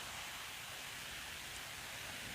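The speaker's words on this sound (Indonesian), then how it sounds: "Mumpung hujan terus ya Bang ya." Rain falls steadily outdoors during an Islamic study gathering, a dense, even hiss that continues unbroken and fairly soft, with no speech over it.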